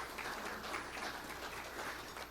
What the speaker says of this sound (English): So again, a big round of applause for NAV for making this happen.